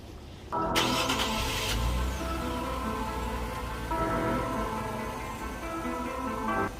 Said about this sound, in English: Start your car. Make sure it works.